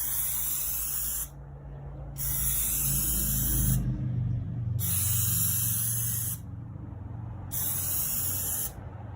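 Plasti-Dip sprayed in a few heavier coats over Tesla Model Y emblems: four hissing aerosol bursts of about two seconds each, separated by short pauses, with a low background rumble underneath.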